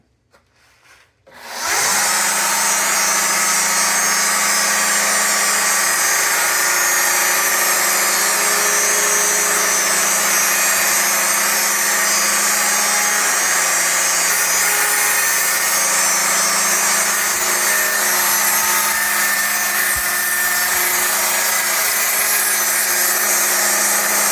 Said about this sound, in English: This is a pantograph machine. It cuts 4 stocks at a time and has one that's a template.